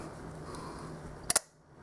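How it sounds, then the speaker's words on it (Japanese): Leica M8 digital camera shutter firing once, a crisp close double click standing out against faint room noise. "この状態でシャッターは動くのかな。"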